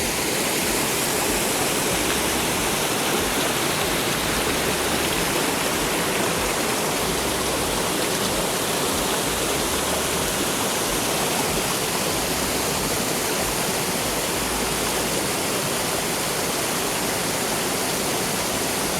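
Continuous rushing water of a river in Smithville, Clarendon, Jamaica, a dense, loud, unbroken roar tumbling over rocks, steady throughout with no voices.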